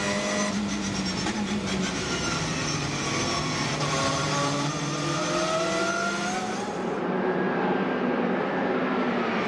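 Several WTCC touring race cars roar past at Shanghai, with loud, layered engine notes rising and falling through the gears on a drying track, continuous and close throughout.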